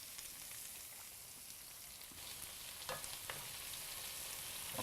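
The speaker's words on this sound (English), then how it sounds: "flipped our first 2 steaks" Steaks sizzle in a frying pan with a steady, faint, hissing crackle and a few brief pops, continuous throughout with no talking, for a pepper steak dish.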